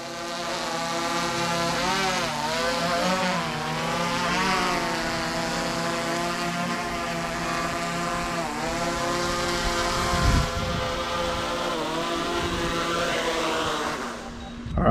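A steady high-pitched whine of a DJI Mavic 3 drone's small propellers hovering nearby, with tones that rise and fall slightly as the craft shifts, continuous and loud.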